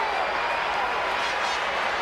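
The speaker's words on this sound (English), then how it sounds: "Listen to this crowd." A steady, dense arena crowd roar fills the whole stretch in the WWE 2K14 wrestling video game at a simulated WrestleMania event, loud and even with no breaks.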